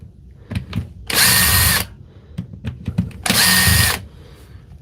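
Brushed power drill run in two separate bursts of about three-quarters of a second each, loud high whine, separated and surrounded by quieter clicks and handling knocks.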